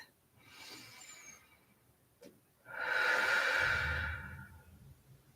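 After releasing a floor exercise, a person breathes close to the mic: a soft intake, then a long, audible breath out that swells and fades, with no words.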